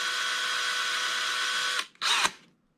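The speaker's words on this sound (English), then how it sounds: "Some of them, it'll take me quite a while to drill these out" A small drill with a worn 5/64 bit whines steadily and loudly for nearly two seconds, stops briefly, then spins up again in a short burst before cutting off to silence.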